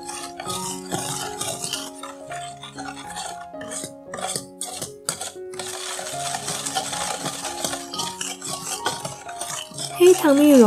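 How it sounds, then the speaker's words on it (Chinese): Spoon stirring molasses and soy milk in a bowl, with irregular wet scraping and clinking strokes close up, over soft background music. "再倒入100克的豆奶，搅拌至黑糖蜜融化。"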